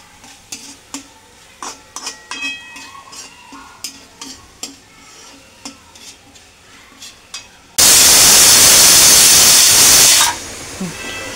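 A pressure cooker with dal lets out a loud, steady blast of hissing steam lasting a few seconds, preceded by a series of light utensil clinks and kitchen clatter.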